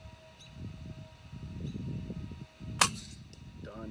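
A rifle fires a long-range shot at a target 81 yards out by a light green bush on a horse farm: a single sharp crack cuts through steady outdoor wind rumble, followed by a brief ringing tail, with no talking.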